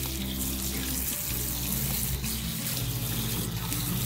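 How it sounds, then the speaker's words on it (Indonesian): Running tap water splashes steadily into a sink as a plant pot is rinsed, a loud continuous close-up hiss with slight shifts as the pot moves. "sekalian kita bersihin potnya."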